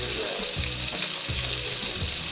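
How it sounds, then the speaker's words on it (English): Meat for adobo sizzling and crackling loudly in a hot pan, a dense continuous frying hiss with occasional pops and soft stirring shifts, no talking. "the meat cooking nicely now. Sizzling, crackling."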